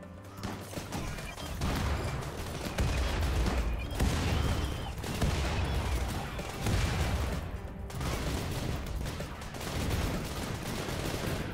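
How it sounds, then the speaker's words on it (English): Rapid, loud bursts of auto mortar fire and explosions in the RimWorld Biotech strategy game, a dense barrage repeating in waves with brief pauses between volleys. "Auto mortar. Oh my god, it's gonna fire already."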